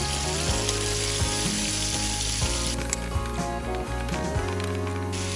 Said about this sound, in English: Our onion goes in, the rest of our onion goes in, and just at the same time we put our tomatoes.